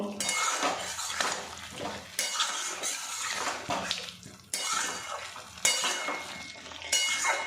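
Spiced potatoes are stirred with a little water in a pan, a spoon scraping and clattering against the metal in repeated strokes, with a soft sizzle between, close and fairly loud, no voices.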